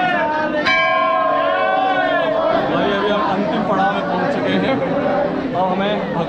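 A dense crowd of pilgrims at Badrinath temple in the evening fills the air with constant loud chatter and overlapping voices, with a bell-like tone rising early on.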